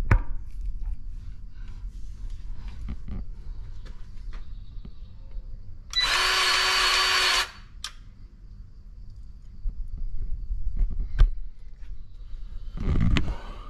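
A Milwaukee cordless grease gun runs in a short steady burst of about one and a half seconds, loud against a quiet background with a few faint clicks and handling noises.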